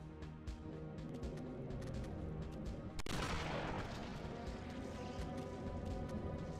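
A shotgun blast in the horror game Eternal Darkness: Sanity's Requiem, a single sharp, loud report cutting through a quiet, tense game ambience, followed by a brief wash of reverberating noise.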